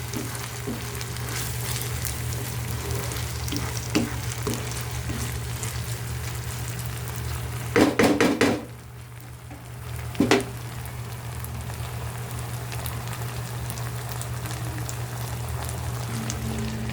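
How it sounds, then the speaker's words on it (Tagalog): Oyster sauce mixture sizzling and being stirred in a hot pan, a steady close frying hiss with a low hum underneath, broken by a few sharp scrapes and clinks of the utensil against the pan. "Haluin natin."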